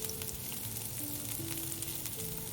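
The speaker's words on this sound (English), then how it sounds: "Add a little oil, then saute the shallots for about 30 seconds till fragrant." Shallots sautéing in a little oil for beef fried rice, giving a steady, even sizzle with faint stirring, quiet and close, with no voices over it.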